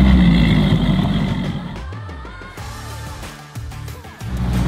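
A Vexus VX20 bass boat's outboard engine runs steadily in shallow water, a continuous low drone that dips and swells slightly, heard up close with no one speaking.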